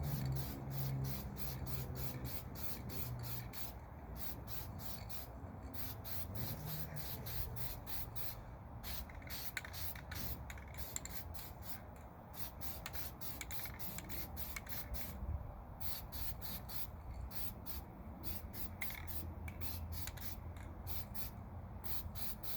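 Aerosol spray paint is applied to wheel rims in light coats, a series of short hissing bursts repeating in a quick rhythm over roughly twenty seconds, close and fairly quiet.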